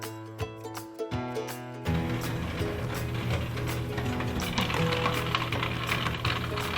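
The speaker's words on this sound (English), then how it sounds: "Press the start button again to activate drain pump." A steady mechanical whirring hum of an LG washing machine drain pump, with faint clicks before it starts and then running continuously and fairly loud.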